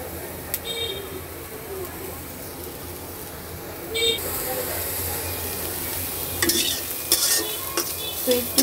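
Chopped onion and green chili stirred in a heated wok, with soft scraping and light sizzling, louder spatula clatter near the start and toward the end, fairly quiet overall.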